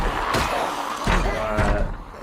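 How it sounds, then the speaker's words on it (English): Zombies in Project Zomboid bang on a door, with repeated heavy thuds at a steady interval of roughly half a second, loud and close over a busy game background. "Who's banging on the door over here?"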